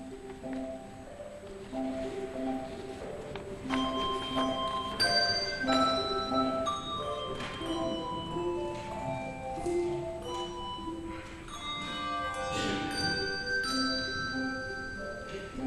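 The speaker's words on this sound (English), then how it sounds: "We're going to have our prelude, Praise the Lord the Almighty, with the Asbury Bells." The Asbury Bells handbell choir playing the prelude Praise the Lord the Almighty in a church service, with ringing sustained tones layered into a slow, steady melody at moderate volume.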